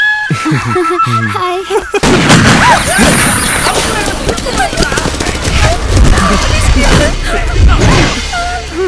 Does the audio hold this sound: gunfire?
yes